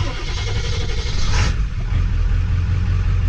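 A 1999 Ford F-250 Super Duty fires up on its stock tune, the start rising into a loud, close engine note that settles into an even, low rumble with no surging.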